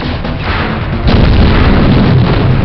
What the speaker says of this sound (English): Atmospheric processor destroyed.